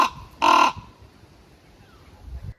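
Raven calling loudly near a crow that taunts it in an animal enclosure: one harsh, close caw that stands out alone, followed by quiet background.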